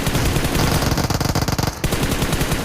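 An Uzi submachine gun fires in a video game in loud, rapid, sustained bursts. Fire breaks off briefly near the end, then resumes.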